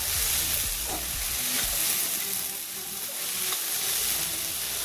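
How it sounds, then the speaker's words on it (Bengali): Sago pearls are stirred in a pan over a low flame for laddu. A steady sizzle carries soft scraping and stirring strokes. "তবে সাবুটা কিন্তু লো ফ্লেমে রেখে না এইভাবে নাড়তে হবে"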